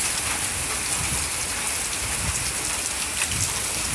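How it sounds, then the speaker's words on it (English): Steady rain falls after a thunderstorm and tornado, a dense, even hiss of drops on surfaces that continues throughout with no talking. "And some much needed rain."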